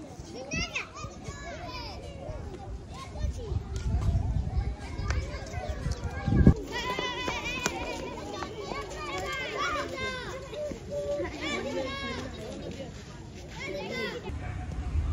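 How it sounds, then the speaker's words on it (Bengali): Children playing in an outdoor field, with lively overlapping kids' voices, shouts and chatter close by throughout. "জয় আর বলদের কীর্তি দেখুন মাঠে এসে খেলছে।"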